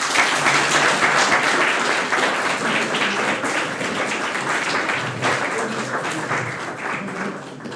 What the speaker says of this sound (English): please one more round of applause for all the creations we saw today